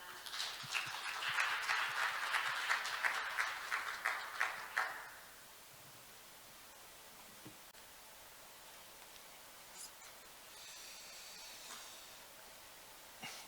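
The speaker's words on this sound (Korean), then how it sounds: "큰 박수 부탁드립니다" An audience at an international patent court conference session on artificial intelligence applauds for about five seconds, a soft, fairly distant patter of clapping that then stops, leaving quiet room hiss.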